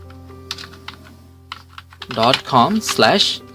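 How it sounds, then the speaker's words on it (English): Quick clicks on a computer keyboard as a web address is typed, with light scattered keystrokes throughout and a voice speaking over the second half. "And now simply type facebook.com/"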